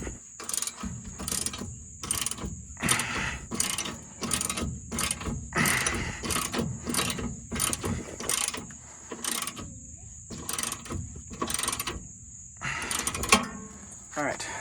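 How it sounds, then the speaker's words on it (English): Ratchet clicking and metallic wrench and breaker bar work loosening a rear shock absorber bolt on a Volvo 240, repeated bursts of close, loud clicks in a steady rhythm with faint background talk. "You can kind of prop up a wrench in there and get it with a breaker bar,"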